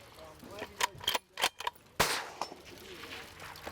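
CVA Sidekick muzzleloader rifle in 6.5 Creedmoor fired at an outdoor range, several sharp cracks in quick succession with echoing tails, the strongest report near the two-second mark.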